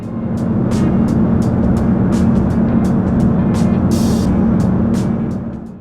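A Sounds Air Pilatus PC-12 cabin fills with a loud, steady turboprop drone and airflow roar during descent into Wellington, with faint short ticks and rattles over the constant hum.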